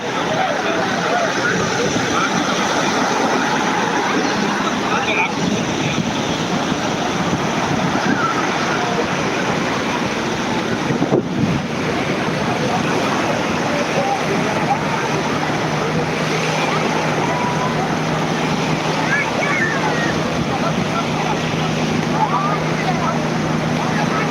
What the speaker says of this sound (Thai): มาเล่นน้ำทะเลจ้ามาเล่นน้ำทะเลเด้อ